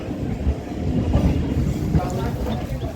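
A Kolkata Chakrarail suburban train rolls along platform 4 at Majerhat station, its low, continuous rumble laced with faint rhythmic wheel clatter, close and fairly loud, with no clear talk.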